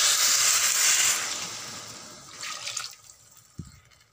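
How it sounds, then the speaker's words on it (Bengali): Warm water pours into a pot of cauliflower and potato khichuri, a loud broadband rush for about two seconds that tapers off, followed by quieter splashing and a faint clink near the end. "দিয়ে এবার এর মধ্যে আমি দিয়ে দেব উষ্ণ গরম জল,"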